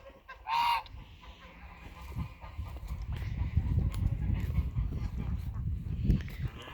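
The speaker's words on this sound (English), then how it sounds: "Looks like these geese would like this area to be theirs." A short burst of geese honking near the start on a farm, then steady rustling and outdoor noise with faint bird calls.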